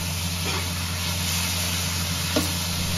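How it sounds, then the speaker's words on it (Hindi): Okra roasting in a pan beside a pressure cooker of chicken while tomato, onion and green chilli masala cooks, giving a steady close sizzle and hiss throughout with a brief stir near the end. "जबकि साथ हम भिंडी को रोस्ट करेंगे"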